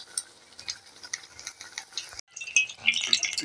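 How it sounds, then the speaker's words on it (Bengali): Pointed gourd (potol) fries in a little oil in a pan, a light crackling sizzle with scattered ticks, intensifying into brighter spattering after a brief gap, close and alone without talk. "যখনই মনে হবে একদম অল্প তেলে ভাজা হয়ে যাচ্ছে, তেলও বেশি লাগবে না।"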